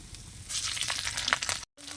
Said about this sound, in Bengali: তো আদাটা কিন্তু ভেজে নিয়েছি